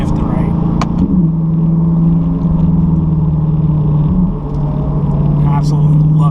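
A C8 Corvette with a Borla ATAK exhaust drones steadily from inside the car at around 3,500 RPM. The tone dips briefly at the shifts before the deep, loud rumble resumes.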